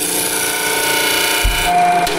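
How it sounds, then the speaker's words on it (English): Steady abrasive grinding as zinc plating is ground off a steel nut while building a chainsaw mount, a continuous close buzz with a brief low thump partway through. "First I want to grind that zinc off a little bit so that I'm not welding that zinc plating."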